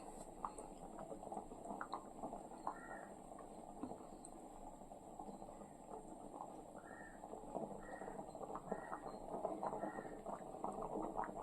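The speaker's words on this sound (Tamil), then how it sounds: "நல்லா கொதி வந்தோடனே சிம்மில் வச்சுட்டு" Mutton kulambu curry simmering in a pot, a faint, low bubbling and popping texture heard up close, steady throughout with no talk.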